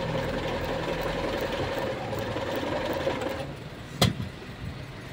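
A Hiland TF-5000 sewing machine winds its bobbin with a steady, faint mechanical whir that cuts off partway through, followed by a sharp click and quiet room sound.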